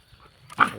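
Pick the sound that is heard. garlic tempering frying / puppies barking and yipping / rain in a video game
puppies barking and yipping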